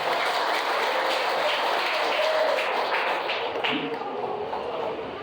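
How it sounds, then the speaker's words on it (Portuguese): Congregation applause in a church service, a steady wash of clapping from many hands, fairly loud and continuous before easing slightly toward the end. "Dê uma salva de palmas ao Senhor."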